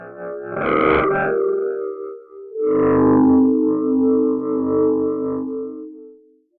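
Output of the DRIFTER effect plugin with second and fifth harmonic distortion: two sustained, buzzy, heavily processed tones with chorus-like shimmer and echo, the first short, the second longer and fading out at the end.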